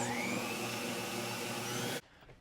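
An electric mixer whirs steadily as it mixes cranberry cookie dough, a loud continuous motor drone with a high whine, then cuts off abruptly for a quick, short mix.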